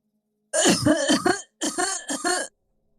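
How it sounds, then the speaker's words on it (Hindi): An elderly woman's coughing from an outer room, used as a horror story sound effect: two close, harsh coughing bursts, loud and near, with no talk around them. "अचानक से बाहर के कमरे में से खांसने की आवाज सुनाई पड़ी"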